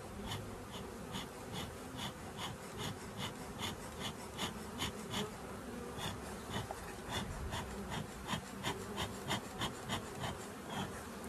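Honey bees buzz steadily around a hive while it is smoked with tansy against varroa mites, a close, continuous droning hum with repeated short pulses and puffs throughout, and no speech.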